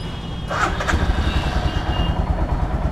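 A fuel-injected 2017 Royal Enfield Himalayan engine starts up and keeps running steadily, a low rumbling idle with a slight pulse, fairly close and loud.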